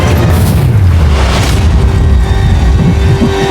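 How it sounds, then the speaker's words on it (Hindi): Firecrackers going off at a stunt challenge, heard as a loud continuous booming roar with deep rumbling that fills the whole stretch without a pause. "पटाखे फूटने वाले हैं।"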